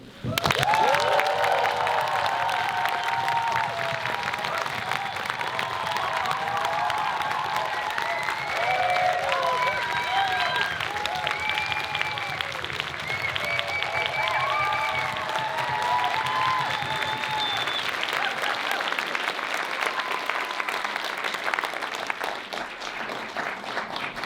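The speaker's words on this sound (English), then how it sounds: "could you just start with a massive applaud?" Large audience applauding and cheering, a dense sustained roar of clapping with whoops and shouts rising above it, loud and continuous before tapering slightly at the end.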